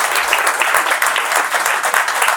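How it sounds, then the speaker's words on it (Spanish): Audience applause at a formal launch event for a Latin American studies centre, dense and close clapping that continues without a break at a steady level. "que peço também uma salva de palmas"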